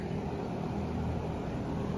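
A Mitsubishi mini split heat pump runs steadily at high speed outdoors, giving a constant broadband whoosh and low hum with no change in level and no voices.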